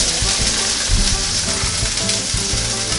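Pancakes and sausages cook on a NuWave Medley XL skillet, giving a steady, close sizzle and crackle of frying that carries on without pause.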